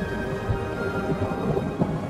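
Low rumbling thunder rolls on continuously as a dull, heavy background swell with faint rain-like texture, loud and without speech.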